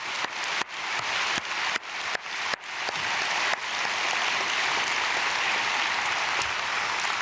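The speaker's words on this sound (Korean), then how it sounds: "우리 모든 아이들 학부모님들 축복의 박수 보내겠습니다." Church congregation applauding children and their parents at a Korean early-morning prayer service: a few scattered claps at first, then dense, steady applause filling the hall for several seconds.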